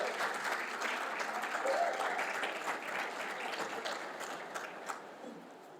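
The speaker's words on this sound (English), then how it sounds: "Another round of applause for the Davis sisters" Audience applause for the Davis sisters at a civic event, a dense, steady wash of clapping from a crowd that holds for several seconds before tapering slightly.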